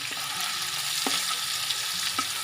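Steady sizzle of grated green chillies and onion frying in hot oil, with a couple of soft clicks of a utensil against the pan.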